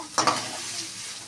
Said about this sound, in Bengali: তুলে দিয়ে আমি এবার চাউমিনগুলোকে ভেজে নেব